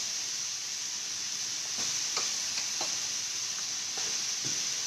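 Cloves, green chilies and cashew nuts hit hot oil in a pan, giving a steady, close sizzling hiss broken by a few light taps of stirring.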